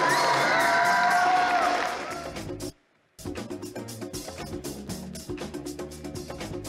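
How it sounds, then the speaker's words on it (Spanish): Crowd at a youth 2vs2 competition in Tabasco cheering and whooping loudly, breaking off into a brief silence, then returning as steady rhythmic clapping with scattered shouts. "Vamos a aplaudir."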